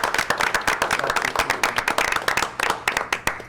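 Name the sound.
meeting audience applause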